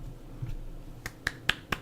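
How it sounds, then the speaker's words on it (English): Soft golf clap during a podcast, four distinct light claps spaced evenly in the second half, quiet and close, with no talking over them. "I'm golf clapping because I don't want to pop the mic."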